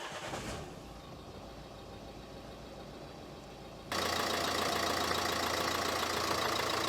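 A Renault Scenic 3 with a 1.5 dCi diesel engine idles after an oil and filter change. It is a fairly quiet rumble at first, then becomes a louder, steady broadband idle that holds to the end.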